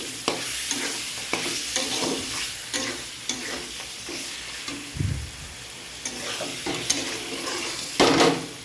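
Marinated meat coated with garlic and ginger paste sautés in a pan, sizzling steadily while a utensil stirs and scrapes in repeated bursts, with a louder clatter near the end.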